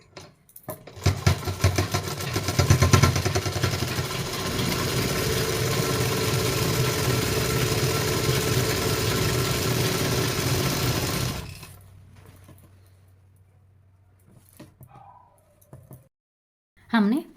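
A sewing machine double-stitching a pant hem, running in a steady fast whir for about ten seconds before stopping, followed by near silence and a brief clunk at the end.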